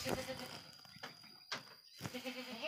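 Garut sheep bleating on a livestock farm, several nearby bleats in a loose sequence with quiet ambient noise between them.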